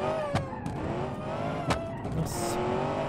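A Saleen sports car with nitro accelerates hard in the driving game BeamNG.drive, its engine roaring steadily with sharp transient bursts, alone and loud throughout.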